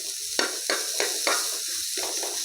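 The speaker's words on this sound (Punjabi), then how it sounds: "ਹੁਣ ਆਪਾਂ ਹਲਕਾ ਹਲਕਾ ਇਹਨਾਂ ਨੂੰ ਭੁੰਨ ਲਿਆਗਾ" Ingredients roast lightly in a pan with a steady high sizzle, broken by six evenly spaced scraping stirs in a quick rhythm, close and alone without speech.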